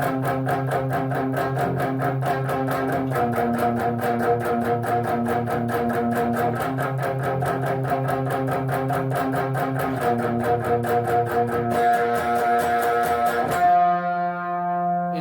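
Distorted electric guitar chugs out steady, palm-muted octave chords in a driving rhythm, shifting pitch every few bars before ringing open at the end.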